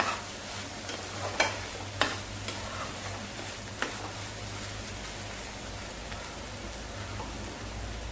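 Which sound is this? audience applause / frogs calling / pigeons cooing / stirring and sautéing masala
stirring and sautéing masala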